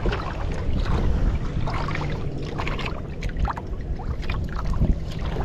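A motorboat engine runs on open water during tilapia net fishing, its steady broadband rumble and hiss continuous and fairly close, with splashing texture and no pauses.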